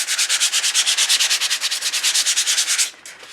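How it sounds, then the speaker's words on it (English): A small sanding pad scrubs back and forth over painted wood in quick, steady rhythmic strokes, loud and close, then stops abruptly near the end. "I'm going to use a little sanding pad"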